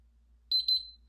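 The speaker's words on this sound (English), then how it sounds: "Okay, that's the 2 beeps." A safe's keypad gives two quick high-pitched electronic beeps close together in a quiet room, the second trailing off slightly.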